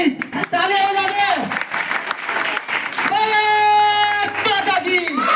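An audience claps at a Republic Day celebration, with loud, steady applause running under strong voices and tonal, music-like sound throughout.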